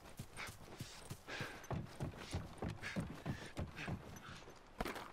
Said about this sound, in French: Encore des chevaux là.